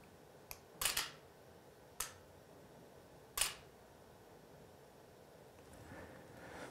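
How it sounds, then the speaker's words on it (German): A single-lens reflex camera set up for macro photography fires its shutter with mirror lock-up through a remote release, giving a few crisp separated mechanical clicks, close and distinct in an otherwise quiet room. "Kamera hat wie gesagt Spiegelvorauslösung, dass ich auch möglichst keine Vibrationen mehr einfange und ich kann halt jetzt hier mein Foto machen."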